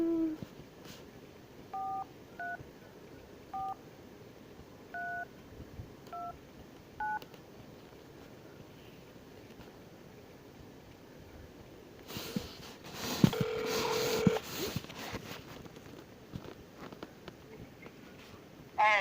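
A mobile phone sounds a series of short electronic beeping tones, spaced in pairs and clusters over the first seven seconds. They are followed by muffled handling rustles and bumps near the microphone.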